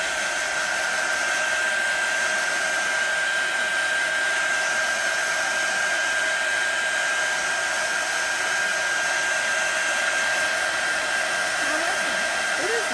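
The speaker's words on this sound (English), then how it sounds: "It's my heat gun." A heat gun blows steadily and loudly for the whole stretch, a constant close-up whooshing hiss as it dries chalk paste, with no break in the airflow.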